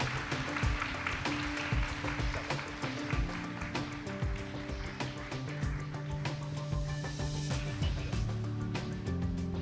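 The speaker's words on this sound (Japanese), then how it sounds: "どうぞ皆様盛大な拍手でお見送りください。" An audience at the Brilliantcrypto project reveal at WebX in Tokyo applauds the departing speakers. Dense, steady clapping runs under loud background music throughout.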